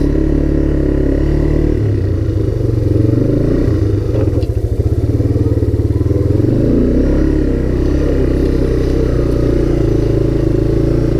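Honda Big Red 250 three-wheeler engine running steadily while being driven, a loud continuous low drone with brief shifts in pitch and some clatter, close to the rider and with no talking.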